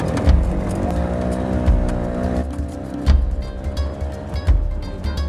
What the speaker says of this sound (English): The three-wheel rickshaw races at hair-raising speeds through the dusty streets.